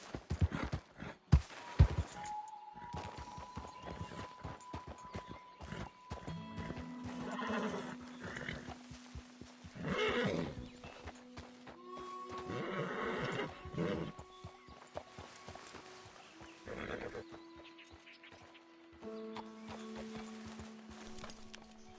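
A horse in Red Dead Redemption 2 gives several loud whinnies and snorts amid scattered hoof clip-clops, set against game sounds with sustained tonal notes, with no talking.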